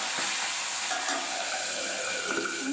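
A loud, continuous sizzle of pabda fish frying in oil close by, with faint clinks of a utensil now and then.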